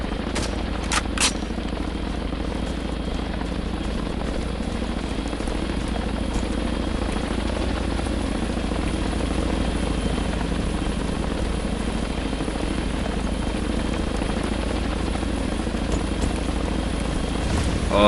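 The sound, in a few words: helicopter arriving in video game Harekat 2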